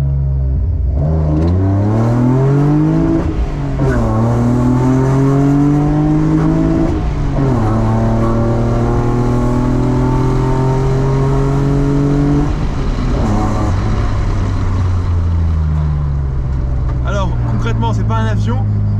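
A BMW E36 325i with an M50/M52 engine accelerates hard through several gears, loud rising engine pitch sweeps broken by brief dips at each shift, with a person speaking over it.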